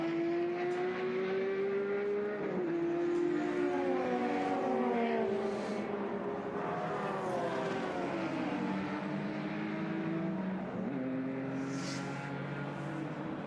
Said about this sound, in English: As we see them all making their way up the hill once again.